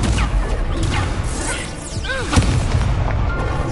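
A fire spell cast in the Hogwarts Legacy video game bursts out with a booming, crackling whoosh amid layered combat effects, with a brief sweeping tone and a sharp impact near the middle.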